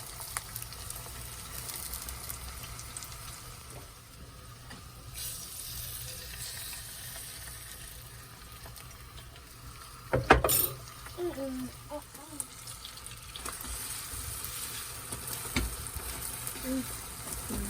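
Eggs frying in a pan for scrambled eggs with tomato give a faint steady sizzle throughout, with a sharp clatter partway through, while a person talks over it.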